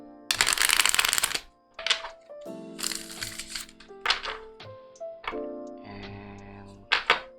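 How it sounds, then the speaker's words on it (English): Tarot cards are shuffled in several quick riffling bursts separated by short pauses, with soft taps and thuds between them, close by. "Shuffle them back once more."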